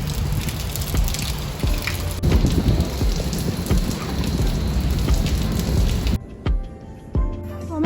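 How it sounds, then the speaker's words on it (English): Heavy rain pours steadily at the port in Ketchikan, Alaska, a dense close hiss of drops striking surfaces with low rumbles underneath, then cuts off abruptly near the end, leaving scattered drips and knocks. "It's definitely raining right now."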